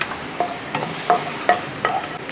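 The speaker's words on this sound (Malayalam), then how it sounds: "ഈ വെളിച്ചെണ്ണ ചൂടായതിന് ശേഷം ഒരല്പ കടുക് അങ്ങോട്ട് ഇട്ട് കൊടുക്കുക" Mustard seeds and a few dried red chilies crackle in hot coconut oil, sharp popping bursts recurring every half second or so over a steady close sizzle while they are stirred, with no voices.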